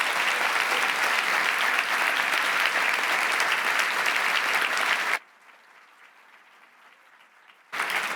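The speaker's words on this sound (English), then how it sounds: "round of applause for all of our wonderful delegates" Conference delegates get a loud, sustained round of applause from the audience at a TEQSA 2024 session. The clapping stops abruptly, leaving near silence for a couple of seconds, then bursts back in at full strength.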